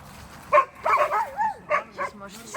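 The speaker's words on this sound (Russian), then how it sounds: "А папка рычит." Canadian wolves at close range, a sequence of short yipping and whimpering vocalizations with rising and falling pitch, about six bursts in quick succession, fairly loud against a quiet background.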